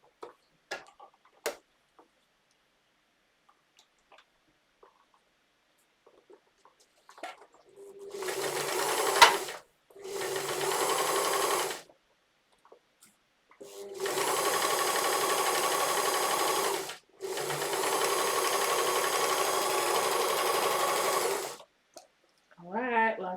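A sewing machine stitches a seam on swimwear in several sustained runs of rapid mechanical whirring, close and steady, broken by brief pauses, with a few faint clicks and handling sounds before it starts.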